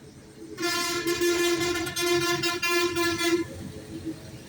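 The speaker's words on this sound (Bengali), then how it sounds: "এখানে একটা ছোট ট্রেন অল্প জায়গার মধ্যে ঘোরাফেরা করে" A small ride-on train circles a tight loop at a children's park with a clay-built play area, its loud, melodic tooting horn sounding steadily for about three seconds over a low background rumble.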